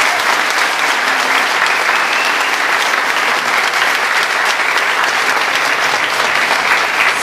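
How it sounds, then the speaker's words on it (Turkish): Dense, loud audience applause fills a concert by a bağlama music course, a continuous even roar of many hands clapping with no talk over it. "Alkışlar Deniz."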